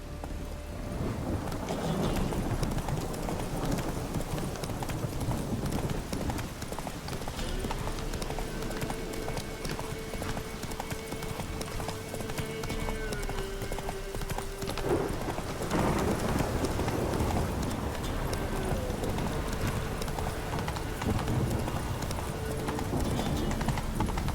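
Roach the horse gallops in The Witcher 3 video game, a fast, continuous clip-clop of hooves under a soft rain-like wash, with a brief tonal whinny-like sound midway and occasional voices.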